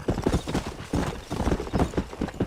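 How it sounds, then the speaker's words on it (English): Galloping horse hooves in a rural open-world video game, quick uneven clip-clop beats close and loud, with a brief whinny mixed in and no clear talk. "Olha o cavalo tá me dando um baile, mano."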